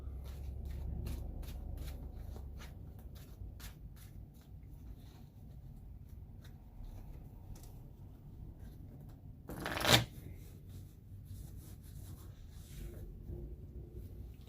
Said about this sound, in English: So I've just been shuffling for about the past 15-20 minutes.